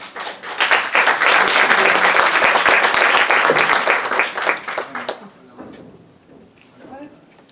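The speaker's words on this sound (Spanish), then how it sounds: "Le damos un aplauso." University audience applause at a talk on Jewish education, loud, dense clapping for about five seconds that then fades out, followed by quieter room sound and a voice beginning to speak.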